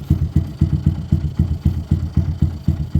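Small motorcycle engine idling just after a choke-on start, steady fast low chugging with regular rhythmic pulses, close and fairly loud with no talk.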